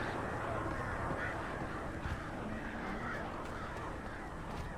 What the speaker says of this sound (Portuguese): Quantidade de corvos, mano.